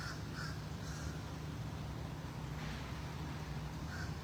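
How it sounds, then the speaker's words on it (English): Crows caw now and then outdoors, a few calls scattered over a steady low hum of distant traffic. "The birds"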